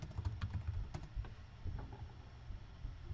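A computer keyboard is typed on to name a new folder, with rapid, uneven keystrokes clattering close up in a quick burst that is soft overall and has no voices.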